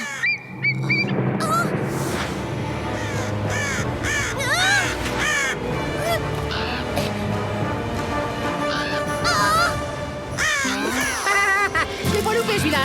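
Crows cawing in a French animated cartoon, a dense, loud chorus of harsh caws and squawks layered over busy cartoon sound and music.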